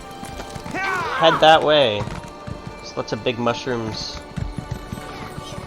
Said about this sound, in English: let's go. Let's get on the horse and